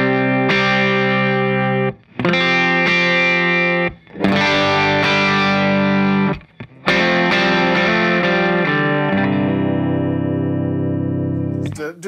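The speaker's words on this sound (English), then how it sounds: "let's just hear your guitar into your amp just a little bit" An electric guitar runs straight into an amp with all effects switched off, strummed and picked in bright, ringing chord phrases separated by short pauses, with a voice briefly present alongside the playing.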